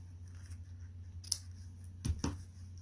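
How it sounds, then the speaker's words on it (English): Scissors snip ribbon for a daffodil fun fold card in a few quiet, crisp cuts. One lone snip comes first, and a quick pair follows a moment later over a low background hum. "I'm just going to snip that little bit off there."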